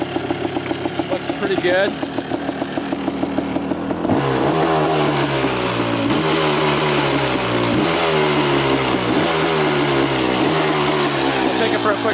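A Suzuki Quadzilla LT500 ATV engine runs loud and steady, first with a choppy idle, then settles into a deep throbbing rumble with periodic surges; a voice speaks briefly early on.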